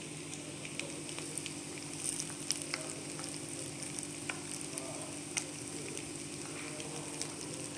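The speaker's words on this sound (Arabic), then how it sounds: "هيا هنايا درت الزبيته ديالي كتسخن باش ان شاء الله نبدا نحط فيها المعقوده ديالنا" Algerian potato maakouda patties frying in hot oil, a steady close crackling sizzle with scattered sharp pops throughout, no voices.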